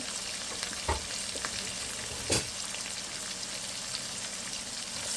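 Onions fry in oil left in a pot after fish was cooked, giving a steady close sizzle broken by two sharp stirring knocks.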